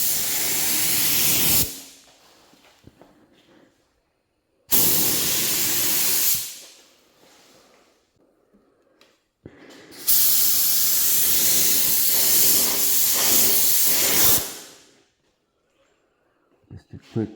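A spray gun lays down colorshift paint in three separate hissing bursts, close and loud, each broken off by stretches of near silence with faint handling noise.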